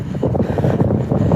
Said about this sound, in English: Oh, it's bloody windy.